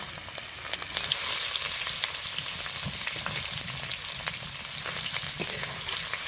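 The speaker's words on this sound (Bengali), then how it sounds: "আলু ভাজা তেলে দিয়ে দিব ফুলকপি ফুলকপিটাও ভেজে নিব" Cauliflower florets frying in hot oil in a pan give a steady, close sizzle with scattered crackles and pops throughout, with no talking.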